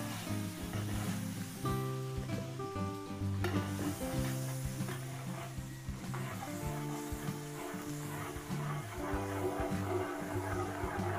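Garlic sizzles in margarine in a pan, a continuous close frying hiss under steady kitchen clatter and stirring, with no voices heard.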